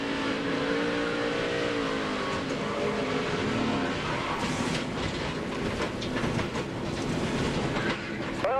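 A NASCAR stock car engine on throttle is heard from the onboard camera in a 2006 Charlotte race. It gives a loud, continuous mechanical roar with shifting tonal drone and rattling vibration.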